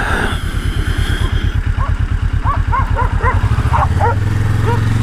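A dog yips and barks several times over the loud, throbbing idle of a nearby motorcycle engine.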